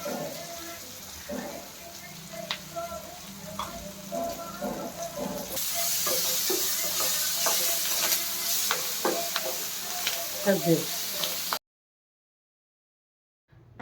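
Onions and coriander leaves frying in oil in a home kitchen pan, a steady close sizzle and hiss with occasional stirring scrapes, ending in a short stretch of silence.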